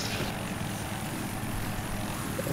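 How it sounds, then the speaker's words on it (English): A helicopter in an 8v8 video game match on a canals map drones continuously overhead, its steady rotor and engine roar filling the scene at an even level. "So chopper would be up"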